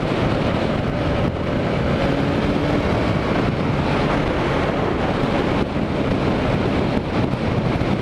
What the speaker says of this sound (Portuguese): tá muito vento aqui